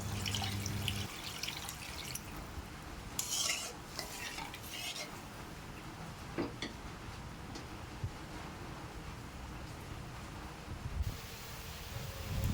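Hot water is poured into a pan of parshe fish curry cooked with mustard paste, a quiet splashing pour with light clinks of a utensil against the pot and soft stirring.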